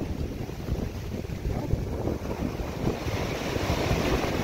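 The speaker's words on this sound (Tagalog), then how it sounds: "napakabangis ng alon. Galit-galit ng alon, no?" Rough ocean waves crash and roar continuously, with heavy wind noise buffeting the microphone.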